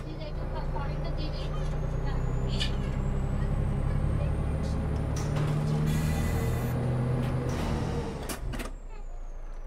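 Air brake on a Volvo FH13 460 truck mod in Euro Truck Simulator 2, a short sharp hiss bursting out over a steady engine drone and rumble, close and fairly loud, with a second brief release near the end.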